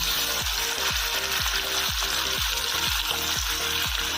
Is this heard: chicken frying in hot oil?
yes